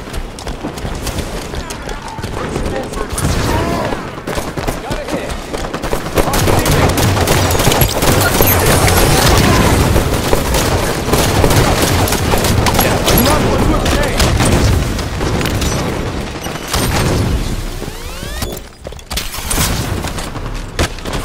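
Video game gunfire rattles in dense, rapid bursts, nearly continuous for most of the stretch, loud and up close, with excited talk from players mixed in.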